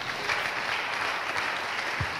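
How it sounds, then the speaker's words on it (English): A church congregation claps together during a sermon, a short burst of applause that sounds moderately close and fills the room for about two seconds. "Somebody clap their hand for Jesus."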